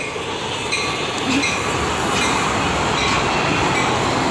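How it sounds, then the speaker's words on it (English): A metro train passes right behind the listener, a loud, steady roar of wheels and rail noise with faint clatter and squeal, continuous throughout. "And here comes the metro train right behind me. It might get really loud."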